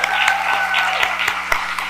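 Round of applause from a sold-out gala audience celebrating Black excellence, a steady dense wash of clapping at moderate loudness with a few sharper individual claps standing out, and no voices over it.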